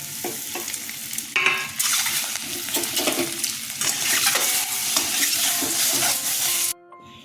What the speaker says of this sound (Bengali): হলুদ দিলাম লঙ্কার গুঁড়ো দিলাম আর ডিমগুলো ছেড়ে দিলাম